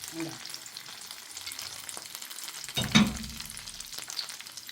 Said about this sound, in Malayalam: മൈദ ഇല്ലാണ്ട് ഇങ്ങനെ പൊരിച്ചെടുക്കാം.